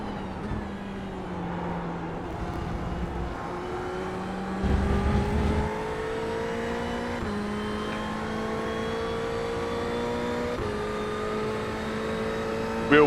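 Race car engine in iRacing on a fast lap, a steady sustained drone with rising pitch as it accelerates through the gears, a brief louder burst partway through, running alone without talk.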